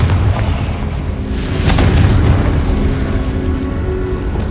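A Confringo spell blast in the Hogwarts Legacy video game: one loud booming burst near the middle, sitting on a constant low rumble and ending in a long roaring tail.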